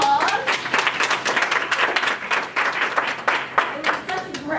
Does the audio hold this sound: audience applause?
yes